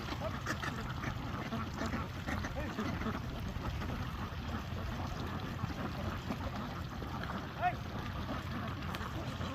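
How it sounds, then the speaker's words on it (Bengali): Khaki Campbell ducks on a duck farm, a crowd of quacking birds heard at a distance as a low, busy chatter with occasional sharper calls. "অনেকগুলো হাঁস সেখানে, বিভিন্ন ধরনের কামিল জাতীয় হাঁসগুলো"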